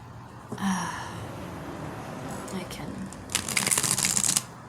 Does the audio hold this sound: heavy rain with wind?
no